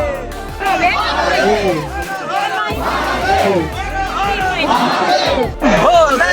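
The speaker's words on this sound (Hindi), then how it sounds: "कतार में लगते हुए जब आप मंदिर के पास में पहुंचते हैं तो भक्तों का जो नारों का शोर होता है" Devotees near Kedarnath temple chant slogans in loud, overlapping group shouts that rise in waves, with a dense crowd murmuring beneath.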